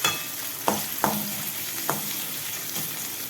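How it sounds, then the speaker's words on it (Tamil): Large onions frying in hot oil in a pan, a dense continuous sizzle with a few sharp scrapes as the spoon moves them around. "சட்டியில் எண்ணெய் வச்சு காஞ்சதும் வெங்காயம் போட்டிருக்கேன்."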